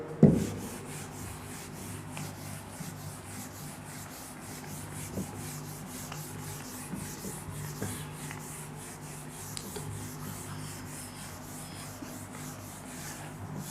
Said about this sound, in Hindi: अब इसको रब कर देते हैं।